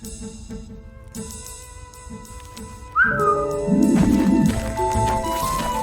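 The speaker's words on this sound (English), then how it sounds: "Oh yeah, animals are always whistling to me." Animals in the video game Wildfire give a brief rising whistle partway through, heard over sustained tonal game music and ambient background sound.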